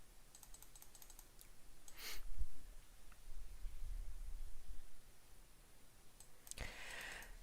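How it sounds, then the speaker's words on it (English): Computer mouse and keyboard clicks from someone playing Doomsday: Last Survivors come in quick, close bursts, a rapid cluster early on and another sharp flurry near the end, over quiet background hiss, with no talking. "so if you guys hear me clicking"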